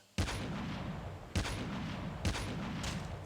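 Three loud gunshot booms in the video game Call of Duty: Mobile, spaced about a second apart, each followed by a dense, sustained rumble of distant firing.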